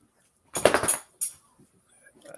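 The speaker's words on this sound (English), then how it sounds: "my dog just fell off the couch" A huge 11-year-old dog tumbles off a couch indoors: a heavy half-second burst of thumping and scrabbling, then one shorter knock, and the room goes quiet.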